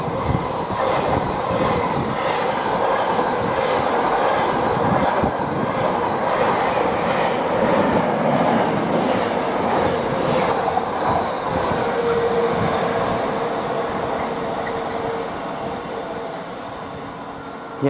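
Class 66 locomotive 66774 hauling a freight service from Eastleigh Yard to Hams Hall past Banbury on the Chiltern Main Line, a loud, steady rumble of wagons rolling by with rhythmic wheel clatter, fading slightly toward the end.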